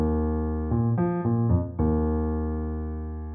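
A piano's left hand plays the opening measure of a song: low, full chords changing in a short sequence, then a final chord left ringing and slowly decaying, close and alone.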